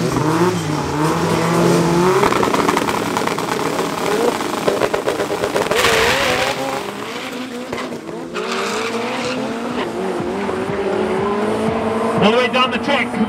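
Drag race cars, including an MK1 Golf, launch and accelerate hard at a raceway, engines revving loudly with rising and falling pitch as tires squeal, while a commentator talks over the continuous roar.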